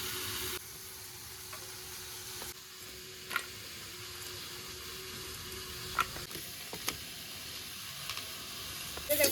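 Eggplant and potato pieces frying in a pan give a steady, quiet sizzle with occasional soft clicks and stirring taps, close by, and no one speaks.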